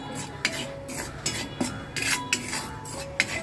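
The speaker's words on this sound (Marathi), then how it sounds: "पण सतत ढवळत ठेवायचं, म्हणजे असं थांबायचं नाही तर खाली लागतो." A spoon stirs roasting gram flour masala around a heavy kadhai, scraping and knocking against the metal in an irregular rhythm of close, clear clinks over a faint sizzle, with no talking.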